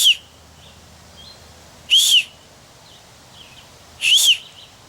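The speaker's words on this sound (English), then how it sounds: "And there's also a built-in whistle." Three short, shrill whistle blasts from the built-in whistle of a Les Stroud Ultimate Mountain Survival Knife, evenly spaced about two seconds apart, fairly thin and not very loud over a quiet background.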